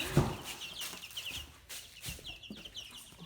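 Young baby chicks cluck and peep in a new pen bedded with pine shavings, a bright near chirp at the start followed by scattered softer calls and light rustling.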